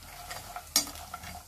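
Cashews deep-frying in a pan until golden brown, a soft steady sizzle with light stirring and one sharp clink partway through, close and quiet.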